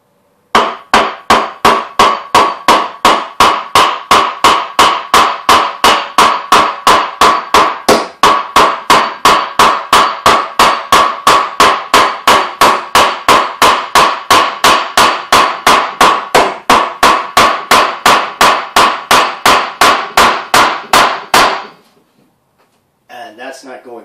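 Steady, evenly spaced hammer blows drive a nail into a wooden Viking round shield, dozens of sharp, loud strikes in a fast regular rhythm that stop abruptly near the end.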